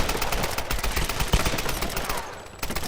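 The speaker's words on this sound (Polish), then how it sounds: "stamtąd dochodzą strzały" Rapid bursts of gunfire crackle continuously, dense and loud, like automatic weapons firing in the game Tomb Raider, with a brief lull near the end.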